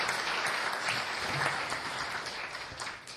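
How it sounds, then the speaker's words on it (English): A city council meeting audience applauds volunteers, a steady, moderately quiet round of clapping from a room of people, continuous throughout without talk. "So give them both a round of applause."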